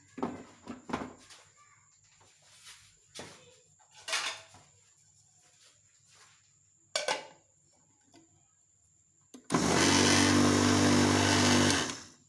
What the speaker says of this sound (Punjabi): ਹਲਕਾ ਜਿਹਾ ਅਸੀਂ ਗ੍ਰਾਈਂਡ ਕਰਾਂਗੇ। ਜ਼ਿਆਦਾ ਗ੍ਰਾਈਂਡ ਨਹੀਂ ਕਰਨਾ